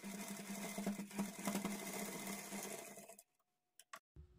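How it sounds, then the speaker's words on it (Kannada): Close and loud, a sewing machine whirs steadily while stitching piping onto a blouse, then stops abruptly, leaving near silence broken by a few brief clicks. "ನೋಡಿ ಇಲ್ಲಿ ಪೈಪಿಂಗನ್ನು ಸ್ಟಿಚ್ ಮಾಡ್ಕೊಂಡಾಯಿತು"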